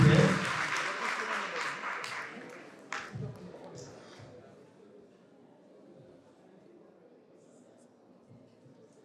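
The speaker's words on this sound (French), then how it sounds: "Merci, sur votre applaudissement" An audience at a university teaching event applauds loudly, and the clapping trails off over the first few seconds into quieter room sound with some talk.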